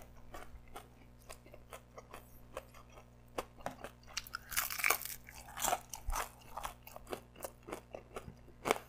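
Crunchy battered fried duck bitten and chewed up close, a rapid irregular series of sharp crackling crunches growing denser in the middle, with no voices.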